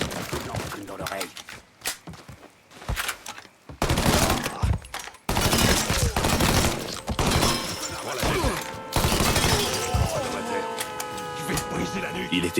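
Gunfire in Mafia III: bursts of rapid automatic shots and single reports, loud and close, with short pauses between volleys and voices talking over them.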